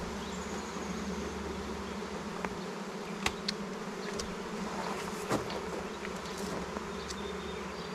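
Honeybees in a small nuc hive drone in a dense, steady buzz that holds throughout, close and continuous, with a few sharper passes of individual bees flying near.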